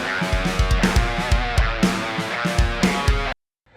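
Distorted electric guitar riff played through a Marty Friedman Signature SansAmp pedal in a studio, loud rhythmic chugs and accented chords for about three seconds, then cutting abruptly to silence.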